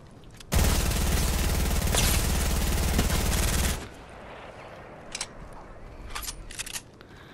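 Sustained automatic gunfire from a battle royale video game, a loud continuous burst lasting about three seconds, followed by quieter scattered shots and game sounds.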